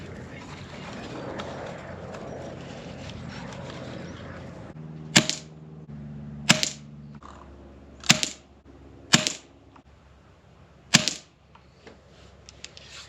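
Air rifle pellet shots fired at a paper target outdoors: five sharp, distinct cracks spaced a second or more apart over a low steady background hum.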